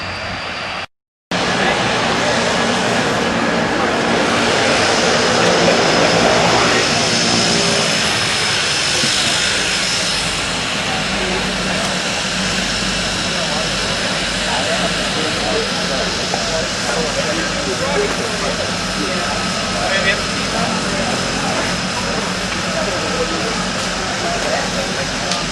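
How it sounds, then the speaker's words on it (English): An airplane drones overhead at a skydiving nationals event, a loud sustained engine roar that swells and lingers throughout, with people talking underneath. "Wait, don't you want to wait on this airplane?"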